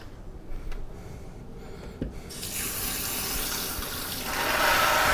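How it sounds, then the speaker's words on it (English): Raspberries, blackberries and strawberries rinsed by hand under a running kitchen tap, a steady close rush of water that swells louder and brighter toward the end, with no talk. "Rinse them off."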